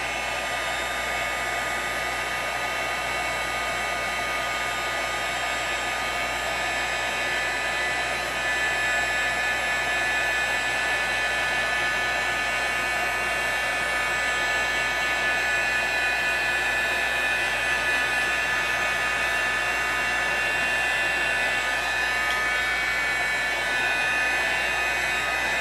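A heat tool blows steadily while melting embossing powder on a paper tag, giving a loud, even whir with a high-pitched whine that barely changes from start to finish.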